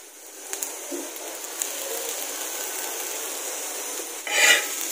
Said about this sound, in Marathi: ह्याला चांगलं हलवून घ्यायचंय आपल्याला